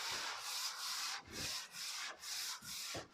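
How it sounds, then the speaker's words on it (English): Soft, steady back-and-forth rubbing of 240-grit sandpaper on a scaffold board tabletop, going with the grain, about six even strokes in a gentle rhythm, close up with no talking. "you're not sanding down, you're just doing the lightest rub over"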